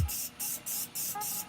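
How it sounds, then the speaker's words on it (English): Morphe setting spray mists onto a face in a series of short hissing bursts, four or five quick close puffs with brief pauses between them. "The Morphe setting spray. I'm just gonna set my face to prepare it for highlight."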